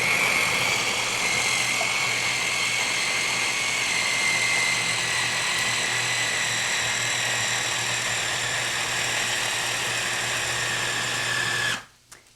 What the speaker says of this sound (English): We'll grind this first batch here in our food processor.